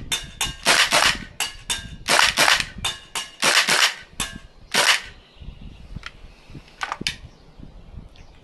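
A Tokyo Marui AKM green gas airsoft rifle fires a fast string of sharp, loud cracks, emptying the magazine in bursts over several seconds before a few scattered final shots and a bolt lock-back click.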